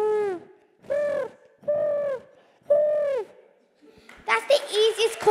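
A child imitates a pigeon call with the voice, giving four separate, fairly loud hooting coos in an even rhythm. A burst of noisier sound follows at the end.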